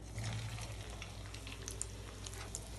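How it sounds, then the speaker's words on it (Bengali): Tuna fish kebabs, shaped from fish mixture and dipped in egg batter, fry in hot oil with a faint, continuous sizzle heard from close by. "এবার তেলে দিয়ে দেব।"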